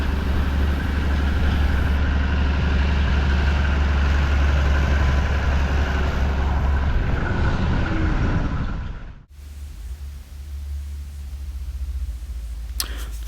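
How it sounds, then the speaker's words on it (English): A Chamberlain tractor towing a trailer carrying a grain bin rumbles steadily with a deep, loud engine note for most of the stretch, then the sound drops off abruptly and a quieter low hum continues with no talking. "The last thing we need to move is the grain bin with the trailer and the Chamberlain tractor towing that"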